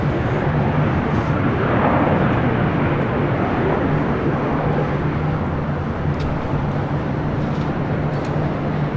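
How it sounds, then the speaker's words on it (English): A Boeing 777 freighter jet at LAX gives a continuous, loud, broad engine roar with a steady low drone, unbroken and without talk. "The 777 freighter staying up here on the north side."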